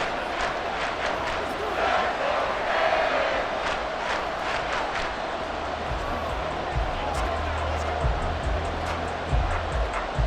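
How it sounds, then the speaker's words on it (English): Stadium crowd in Madden NFL 24 roars steadily in the final minute of a Dolphins game, a dense, continuous wall of cheering under a commentator's voice. "Well, this crowd doing their best to make a lot of racket."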